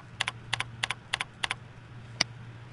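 Keys on a computer keyboard click in evenly spaced pairs, five quick double taps and then one last single press, close and distinct over a faint low hum.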